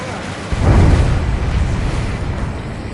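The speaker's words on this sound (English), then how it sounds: "A huge explosion just went off underwater." Underwater explosion in the flight combat game Ace Combat 7: a deep, booming low rumble swells in after half a second and rolls on loud and muffled without any talk.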